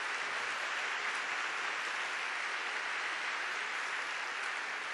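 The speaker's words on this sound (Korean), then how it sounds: "잠깐 좀 일어났다가 박수로 환영해 주시기를 바랍니다" Steady, sustained applause from a church congregation at a worship service fills the room, even and dense throughout with no voices standing out.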